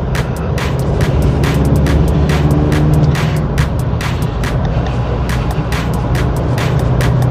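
Pickup truck engine running at speed while driving, a loud continuous roar with steady road and wind noise throughout and no talking.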